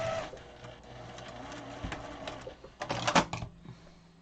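A sewing machine stitches into the corners of an 18-inch pillow made from Jordon Fabrics patterns, short close bursts of mechanical whirring with pauses as the fabric is turned, and a louder clatter near the end.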